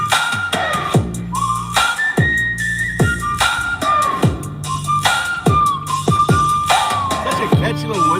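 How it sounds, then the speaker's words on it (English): A catchy whistled melody rides over a song's thumping rhythmic beat, with bright sliding whistle phrases repeating loudly and closely throughout. "Such a catchy little whistle."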